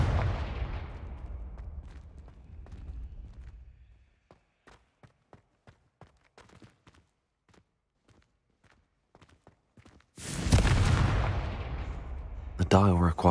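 In the Hogwarts Legacy video game, a Confringo blasting spell erupts with a sudden loud, broad burst after a stretch of quiet tapping footsteps, then rumbles on.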